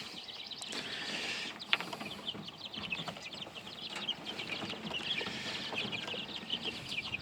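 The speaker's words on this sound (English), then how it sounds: "This is set 3's game chicks and bantams." Game chicks and bantam chickens in a yard pen, a steady chorus of soft clucks and high peeping chirps with one sharper call, continuous and moderately faint.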